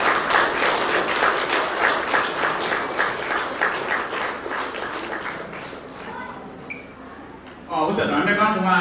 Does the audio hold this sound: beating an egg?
no